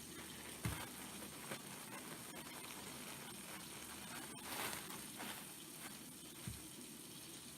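Celery stalks are washed under a running kitchen tap, a steady close hiss of flowing water with occasional knocks and splashes against the sink, no voices.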